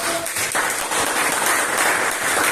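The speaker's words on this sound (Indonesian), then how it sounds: "beri tepuk tangan buat Cici dulu" Applause from a classroom audience during an economics microteaching lesson on financial statements, a dense, steady burst of clapping that fills the room for a couple of seconds.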